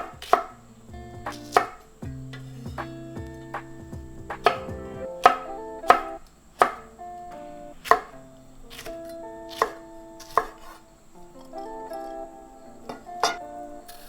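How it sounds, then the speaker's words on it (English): Knife chopping serrano pepper and red pepper on a cutting board for soybean paste stew, about a dozen crisp, evenly spaced knocks close up with no talk. "Slice 1 serrano pepper and 1 red pepper."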